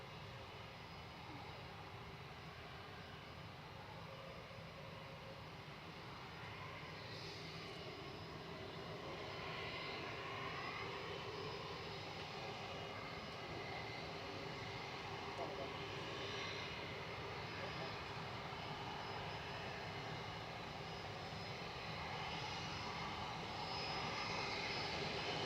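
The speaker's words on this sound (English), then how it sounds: "So I think Singapore's coming down Tango." A Singapore Airlines airliner descends to land, its engines a steady, broad roar that swells slightly over the final seconds, with faint voices talking underneath.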